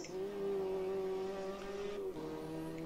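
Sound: Ginetta race car at full throttle, video game Automobilista 2

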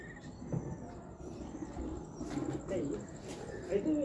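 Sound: breeder pigeons cooing

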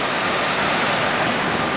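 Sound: river flowing

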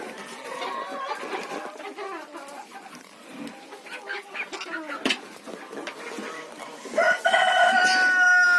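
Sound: bantam hens clucking in the coop

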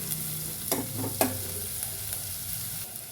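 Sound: frying vegetables in a pan

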